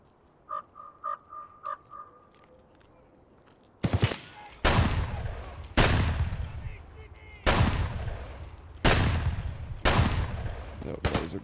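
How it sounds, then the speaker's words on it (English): Video game firefight with a grenade blast: after a few seconds of faint chirping sounds, a series of loud, sharp explosive bursts and gunfire volleys strike at regular intervals, each with a ringing decay. "That was a grenade."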